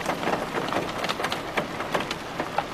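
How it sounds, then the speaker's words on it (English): Big raindrops falling during a storm, a steady rain hiss with distinct heavier splats landing close by at irregular intervals, fairly loud and without speech. "Big drops of rain."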